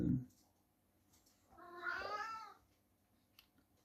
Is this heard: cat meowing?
yes